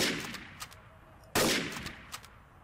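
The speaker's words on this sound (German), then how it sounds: "Er hat mich geschossen." Gunshots in the game TTT: a few quick cracks early, then one loud sharp shot with a decaying tail, followed by fainter scattered pops.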